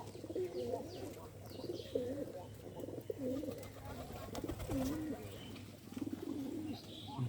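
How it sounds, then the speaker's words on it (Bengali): Several pigeons coo in repeated low, warbling phrases close at hand at feeding time, with soft rustling between the calls and a voice speaking quietly in the background. "কবুতরকে খাবার খাওয়াচ্ছি না"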